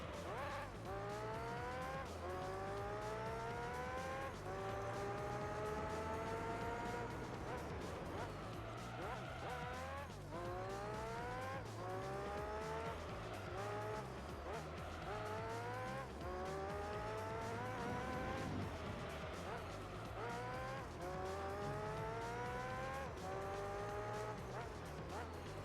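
Formula One race cars in the video game Gran Turismo 3 scream through repeated rising and falling engine pitches with gear shifts, tire squeal and skids, loud and continuous, with a voice talking over the racing throughout.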